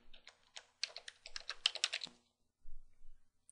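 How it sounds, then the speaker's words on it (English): Rapid clicking of computer keys in an irregular burst as a superuser password is typed, then a pause and a few softer low thumps near the end. "you do that by typing SU for superuser and then entering your password."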